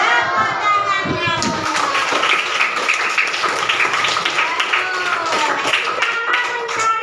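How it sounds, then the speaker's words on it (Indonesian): Pupils clap together in an Indonesian primary-school maths lesson, a busy continuous patter close by with children's and an adult's voices running over it throughout. "Tepuk tangannya."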